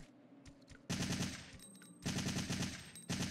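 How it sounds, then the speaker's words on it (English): Bursts of assault rifle automatic fire in Resident Evil 3, three loud rapid volleys separated by short pauses with faint clicks and game sounds between them. "So, we're gonna need the assault rifle."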